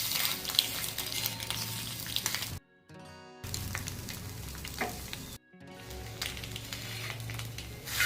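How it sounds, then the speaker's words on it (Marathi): Eggs fry in a hot pan for a Maharashtrian egg masala, giving a steady close sizzle broken by two short near-silent gaps, with no talking. "याला मागून पण आपल्याला थोडंसं असं फ्राय करून घ्यायचं एक अर्धा मिनटं फक्त"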